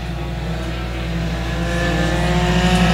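Dirt track race cars roar down the back straightaway at Boyd Raceway, a dense, steady engine drone building slightly in loudness as the pack passes close by, with no voices.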